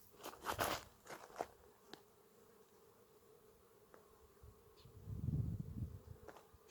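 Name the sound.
swarm of bees buzzing on bush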